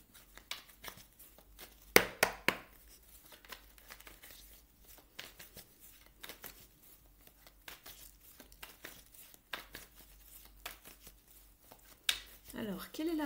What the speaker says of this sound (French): Je remélange le jeu pour vous.